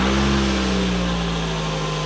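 A Toyota car engine that had overheated runs at idle after an oil repair, a steady, close, low rumbling drone with a constant hum throughout and no talking.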